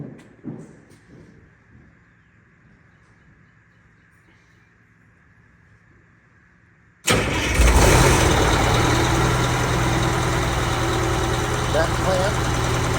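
A sick-sounding 500 HP Prevost bus with a Detroit Diesel 8V92TA engine sits quiet at first, then fires up abruptly into a loud, steady, close-up diesel clatter that keeps running.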